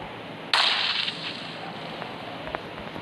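A grenade in PUBG Lite goes off with one sharp, loud blast that fades into a short rumbling tail, followed by a faint crack a couple of seconds later.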